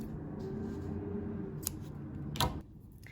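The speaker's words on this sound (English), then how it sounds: "we're going to snip off another piece of yarn" Scissors snip through a short length of yarn for crocheted slippers, two quick crisp cuts close by against a low room hum, with no talking.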